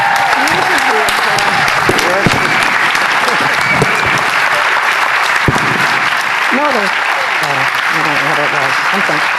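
Sustained applause from a large conference audience as the event closes, loud and dense for the whole stretch, with a voice speaking over it.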